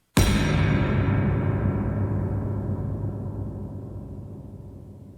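A trap-beat impact effect hits suddenly after a brief silence, a loud, full-bodied boom with a long, wide, noisy tail that slowly decays over several seconds.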